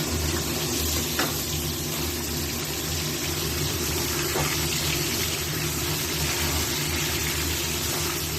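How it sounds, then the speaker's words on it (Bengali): Slit pointed gourds (potol) fry together in a pan with a continuous, even sizzle, close and fairly loud, and no one speaks. "সবগুলো পটল একসঙ্গে দিয়ে ভেজে দেব।"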